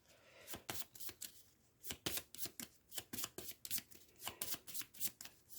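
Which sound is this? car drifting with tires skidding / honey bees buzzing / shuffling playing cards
shuffling playing cards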